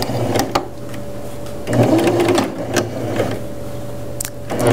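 A sewing machine back stitching along a folded seam allowance gives a steady, close motor whir with a continuous hum, swelling in short louder runs as the stitching speeds up and slows.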